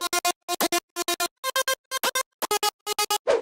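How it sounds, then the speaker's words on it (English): Synth lead in an anime-style bass house track made in FL Studio, playing the B-part melody as short, clipped stabs in tight rhythmic groups of three, with bright harmonic tones, repeating loudly with gaps between phrases. "And for the B part, the lead is playing this melody."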